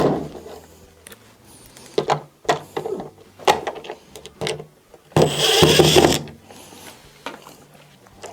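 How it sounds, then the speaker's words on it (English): Two T15 screws are worked loose from the door strike of a washing machine, giving short clicks, scrapes and one longer rattling burst of tool-on-metal handling, close and moderately loud with no talking. "there are two T15 screws that are on it that have to be taken out."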